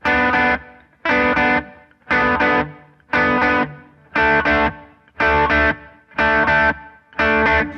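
An electric guitar part from a song plays alone, a distorted, effected riff of eight evenly spaced chord bursts with short gaps between them.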